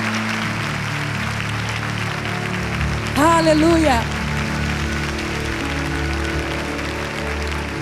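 Church congregation applauding during a Portuguese-language sermon: a steady wash of clapping and crowd noise runs the whole length, with a single shouted exclamation rising briefly above it midway.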